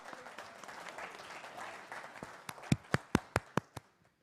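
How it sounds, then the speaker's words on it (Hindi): An audience at a Hindi poetry gathering applauds quietly. The soft clapping of many hands thins out into a final run of about six loud, separate claps before stopping. "जोरदार तालियां हो"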